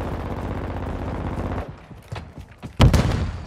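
Call of Duty Modern Warfare II gunfire: sustained rapid automatic fire, then scattered single shots and a sudden loud burst near the end.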